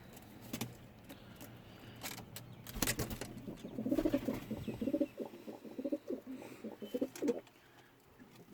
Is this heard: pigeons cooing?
yes